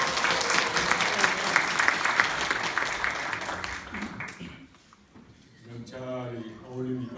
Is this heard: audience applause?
yes